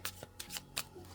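A deck of Dragon God oracle cards is shuffled by hand in quick, crisp riffling bursts, about five sharp flutters in a row, close and clear in a quiet room.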